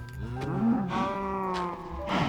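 Cattle in the Minecraft Bedrock survival game lowing repeatedly, several drawn-out moos overlapping close by and loud with no talk over them.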